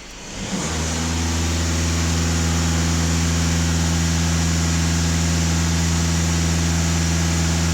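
A Skoda Octavia RS with a 230 hp engine revs up and then holds a steady, loud drone at about 2500 rpm, heard up close with no one speaking.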